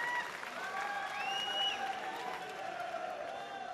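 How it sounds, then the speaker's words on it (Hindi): A crowd at a political speech claps and cheers in a steady, moderately loud wash, with scattered voices calling out through the applause. "अरे ताली जरा जोर से ठोको"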